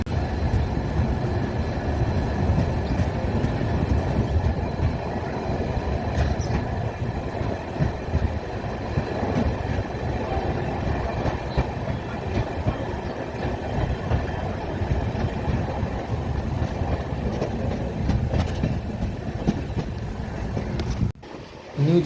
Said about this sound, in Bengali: নিউ জলপাইগুড়ি ছেড়ে যাচ্ছে আমাদের ট্রেন